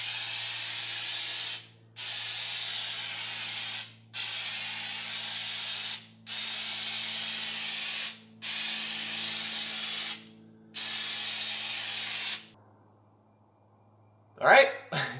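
A spray can lays a coat of sealant on a Nissan 240SX in six steady bursts of about two seconds each, separated by short pauses, followed by silence and a few brief clatters.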